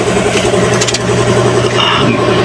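Chevrolet Sonic with automatic transmission, engine started and running at close range, loud steady engine drone with a brief higher rattle partway through, no talk.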